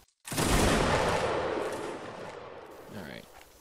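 A volley of rifle fire goes off on a shouted command during a live-fire match, one loud, near crack with a long rolling echo that fades out.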